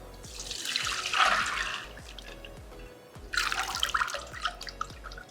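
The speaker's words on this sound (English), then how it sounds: "I'm going to strain it and remove the water" Water pours out in two bursts, splashing and trickling through a strainer as soaked lentils are drained, with a quiet pause between them and drips trailing off.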